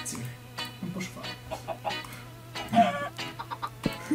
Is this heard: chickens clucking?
yes